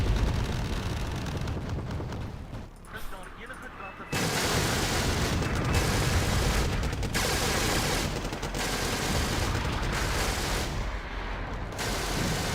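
Mortar barrages in the real-time strategy game Wargame Red Dragon, a dense, continuous rumble of distant blasts and gunfire with brief lulls, with a voice speaking over the combat.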